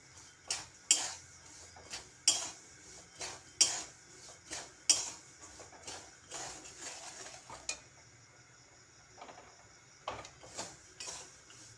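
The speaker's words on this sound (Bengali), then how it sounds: "কন্টিনিউ নাড়াচাড়া করব" Peanuts roasting in salt are stirred in a pan, a spoon scraping and clinking against the metal in regular strokes about every second and a half, crisp and close, with a softer gritty rattle between strokes.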